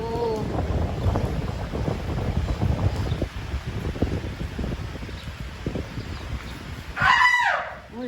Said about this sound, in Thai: ลมก็มาฝนก็มานะ